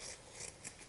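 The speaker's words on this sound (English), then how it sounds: "you can cut up your scraps" Scissors snipping through fabric scraps for a padded embroidered badge, a brief, quiet, close rasping cut heard alone.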